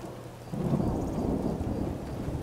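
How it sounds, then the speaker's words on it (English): Outdoor rain and a thunderstorm in the video game Skyrim: steady rainfall with a low rolling rumble of thunder swelling after a moment and lingering, no talking. "it's still raining outside, so it doesn't matter. We're still gonna get wet."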